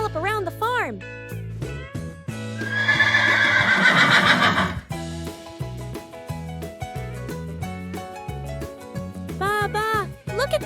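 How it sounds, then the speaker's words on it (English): A horse on a farm gives several whinnies, with tonal neighs at the start and end and a noisy, breathy stretch in between, all set against bright, steady children's music. "Horses help carry people and goods."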